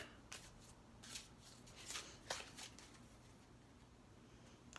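A deck of tarot cards being shuffled by hand, soft papery riffles and slides coming in several short bursts, close and fairly quiet, with no talking.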